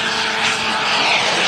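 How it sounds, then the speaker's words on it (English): A Merlin 160 turbine jet engine powers a model glider overhead, giving a loud, steady, continuous roar with a broad hiss that holds evenly throughout. "That's a Merlin 160 jet engine,"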